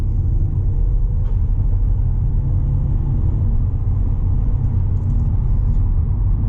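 A 2021 Audi A4 45 TDI Avant S-line Quattro diesel under hard acceleration, a steady loud low rumble of engine and road noise heard from inside the cabin, sustained throughout without voices.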